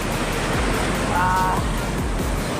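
Surf washing onto the beach at Gokarna, India, a steady, fairly loud roar of breaking waves with no voices over it.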